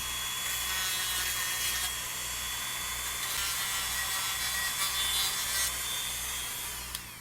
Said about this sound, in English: We can even clean up these edges. With the Dremel.